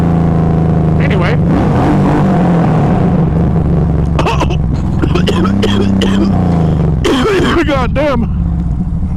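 Motorcycle engine drones steadily while riding, its tone rising and falling with throttle changes as a rider talks and exclaims over it, wind rushing close to the microphone.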